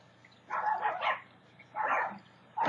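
A dog barks in three short, fairly faint bursts spaced about a second apart, with quiet pauses between them in an indoor setting.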